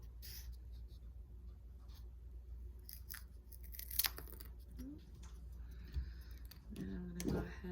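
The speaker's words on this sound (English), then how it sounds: "I'm going to go ahead and cut some more of my foam" Craft foam being cut for a small robot's legs: soft, close snipping and crunching scattered over a steady low hum, with a sharper cut near the end.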